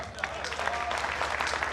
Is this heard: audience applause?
yes